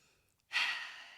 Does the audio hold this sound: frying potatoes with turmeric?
no